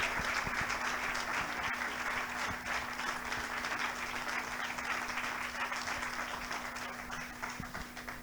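An awards ceremony audience applauding, dense continuous clapping from a crowd in a hall that holds steady and only begins to thin slightly toward the end, with a faint constant hum underneath.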